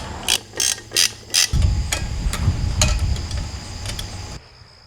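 A ratchet wrench clicks in four quick bursts while spark plugs are tightened on a 1968 Ford Mustang convertible, followed by a steady low mechanical rumble with a few lighter ticks.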